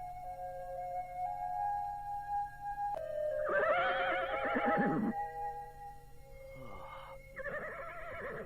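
A horse in a stable neighs loudly and close, one long shrill whinny, then shorter whinnies a few seconds later, over a steady low background.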